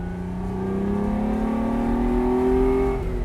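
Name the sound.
Ferrari 246 GTS Dino engine revving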